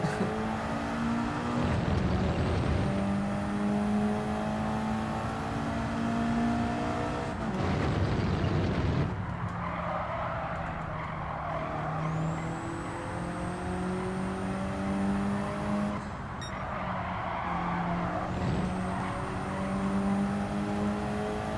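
A car drifts through a race in Gran Turismo 7, its engine droning and surging steadily with rising and falling revs, broken by several bursts of broadband tire noise, loud and continuous without talk.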